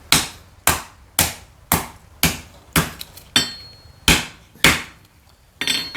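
A hammer lands on a practice piece of wood with damaged edges, giving about nine sharp, close blows at a mostly steady pace, each ringing briefly before fading.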